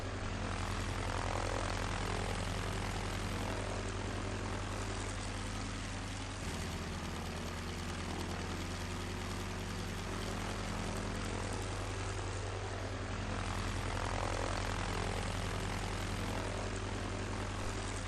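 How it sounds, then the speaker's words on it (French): Propeller engines of WWII bombers from the Doolittle raid drone as the planes take off from an aircraft carrier, a steady, fairly faint roar that continues throughout with a slight shift partway through. "une escadre de bombardiers sous les ordres du colonel Doolittle doit décoller d'un porte-avions pour bombarder Tokyo"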